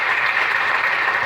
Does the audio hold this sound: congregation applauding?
yes